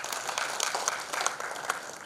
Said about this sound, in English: we will definitely give a big round of applause for him.